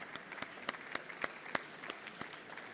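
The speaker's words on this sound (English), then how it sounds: "let's give the panel and the speakers a big round of applause" Applause for a panel and speakers at a network operators conference, a thin, fairly quiet crowd with a few distinct nearby claps standing out in an irregular rhythm.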